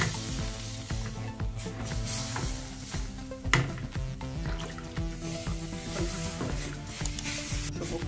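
Chicken cooks in a pan, a steady sizzle and frying crackle running throughout, with occasional stirring scrapes and one sharper clatter midway.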